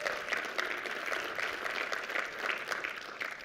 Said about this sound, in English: Two rounds of applause in the first paragraph.